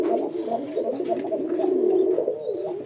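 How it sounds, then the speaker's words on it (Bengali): Golla pigeons cooing in a steady, throaty stream of low, rolling coos, close by and fairly loud, with no talking. "আমি কবুতরের ডাকটা একটু দেখাই দিই"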